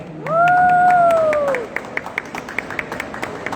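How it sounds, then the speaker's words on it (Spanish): At a book launch, a drawn-out vocal whoop rises over the crowd, then scattered clapping from an audience continues, patchy and moderately loud. "les pido un muy fuerte aplauso para la autora Cristi Barrantes"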